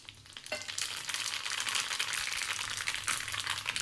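Mustard seeds, cumin and sesame crackle and spit in hot oil for a dhokla tempering. The sizzle is loud and close and swells as the seeds hit the pan.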